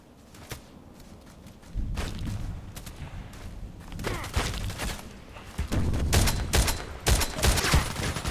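Sniper shots from the SVD-S rifle in a video game, a few sharp cracks with scattered thuds and footsteps in a busy mix, fairly close and moderate in level.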